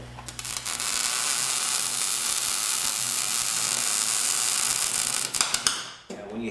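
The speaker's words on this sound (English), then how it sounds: "Now, when you hear the cracking, when I'm going along, that's zinc." Arc welding along a zinc-coated steel flange, a steady dense sizzle with irregular crackling and popping that runs continuously for several seconds, then breaks off and stops near the end.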